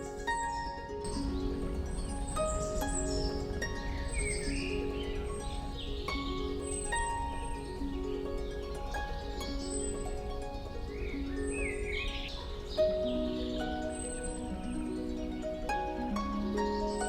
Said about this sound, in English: This is a nuthatch and two hungry fledglings.